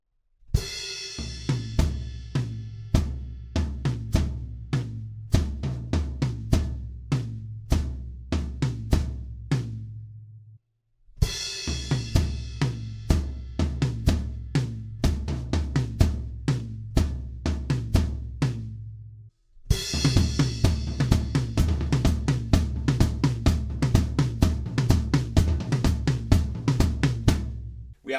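A drum kit plays a song: a pre-chorus fill with crash cymbal hits and rolling toms. Three loud, close passages are separated by brief stops.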